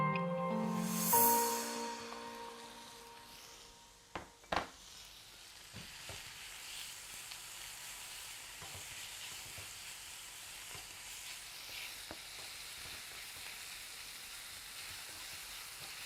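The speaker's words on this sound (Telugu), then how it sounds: "బాగా కలర్ మారేంత వరకు మనం దీన్ని ఫ్రై చేసేసుకుందాం" Lamb mince frying with Cajun spice in a pan, a steady close sizzle with a few sharp clatters of stirring early on, continuing alone without talk.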